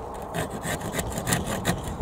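Wood being cut by hand with a saw for a picket fence, steady rhythmic rasping strokes, close and moderately loud, with no talking.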